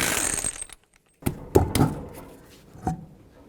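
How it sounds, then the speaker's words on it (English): Ratchet with a 21mm socket working lug nuts off the rear wheel of a 2003-2007 Nissan Murano, heard as a few separate clicking bursts with short pauses between them, close and moderately loud, no talking. "take the wheel off, 21mm socket, remove all 5 of your lug nuts"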